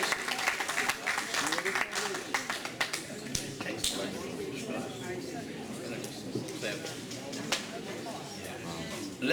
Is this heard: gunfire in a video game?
no